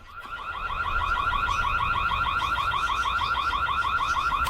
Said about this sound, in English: For comparison, perhaps the activation of the alarm?